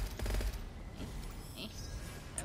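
Rapid gunfire in the first-person shooter Gunfire Reborn, a quick burst of shots at the start followed by fainter scattered firing, all set within steady game background noise.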